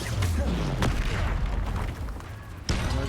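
In the Hogwarts Legacy video game, a spell explosion from combat booms loudly with rumbling blasts and crackling impacts, followed by another sharp hit near the end.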